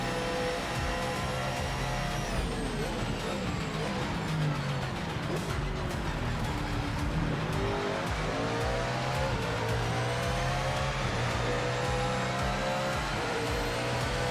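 A race car engine in the Project Motor Racing video game, heard close and loud for the whole stretch as it revs up and down through gear changes, with some tire noise.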